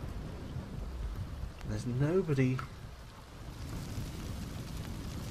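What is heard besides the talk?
rain and thunder in The Sims 2 video game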